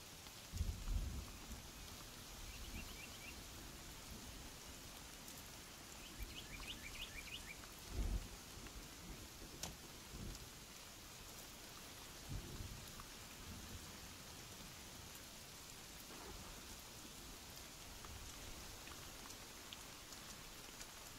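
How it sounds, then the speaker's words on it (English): Rain falling in the video game Sons Of The Forest, a soft continuous patter of raindrops with a few low rumbles of thunder, steady and quiet throughout with no voices. "That rain sounds so good."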